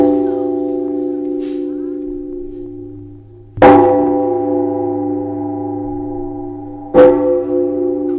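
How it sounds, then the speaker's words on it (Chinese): Hanshan Temple's great bronze bell struck twice, each deep clang swelling suddenly and then ringing on in a long humming, overlapping decay, loud and close. "聆听寒山寺的钟声能消灾祸，得到上苍的保佑"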